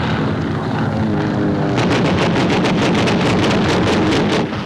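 Japanese warplanes attack a US Navy task force off Saipan in the Marianas during WWII, a loud, continuous roar of aircraft engines and wind with a burst of rapid, rhythmic pulses, like gunfire, in the second half.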